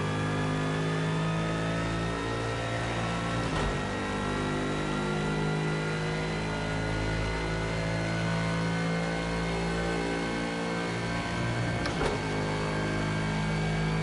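A powerful race car engine revs in Gran Turismo 7, a loud sustained drone with rising harmonic tones as it accelerates, broken by two brief gear-shift jolts, with no talking.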